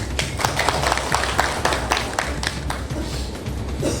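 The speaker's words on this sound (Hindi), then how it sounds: "अश्विन जी के लिए ताली बजा दी।" Audience clapping at a national journalists' convention in Bhopal, a dense steady round of applause from a hall crowd, moderately loud throughout without pause.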